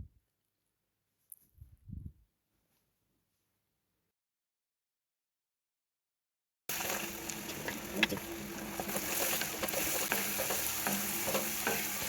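Ground paste for pirandai (adamant creeper) pickle is sautéed in oil. After several seconds of near silence with a faint knock, a loud continuous sizzle starts, with stirring scrapes close by.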